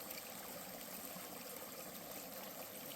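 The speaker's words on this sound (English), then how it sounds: "You've got a little trickle right there. A stronger trickle over there." A small stream trickling steadily, a soft continuous watery burble, faint and unbroken.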